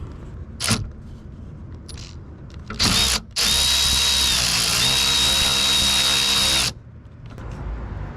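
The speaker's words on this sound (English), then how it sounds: "taking off the negative battery terminal and reconnecting our Pulsar LT" A power tool works the negative battery terminal on a Silverado pickup, with short clicks and a brief burst, then a loud, steady whirring run of a few seconds close by.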